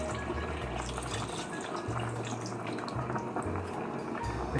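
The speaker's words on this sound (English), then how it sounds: "A little bit more water." Water is poured into a pan of carrots after deglazing, before it goes back into the oven. It makes a continuous, close splashing trickle over a steady low hum, with no talking.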